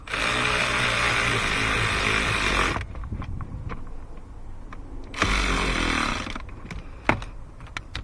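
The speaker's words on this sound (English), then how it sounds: "if you have an electric ratchet, you can run them down. Just till they stop." Electric ratchet running self-tapping screws down on a 2017 Ford Fiesta recirculation actuator repair, with two loud sustained whirring bursts separated by quieter clicks and handling noises.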